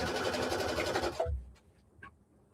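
Close, brisk whirring of a sewing machine stitching a quilt block, running for just over a second before stopping, followed by a few soft handling taps.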